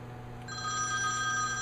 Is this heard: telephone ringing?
yes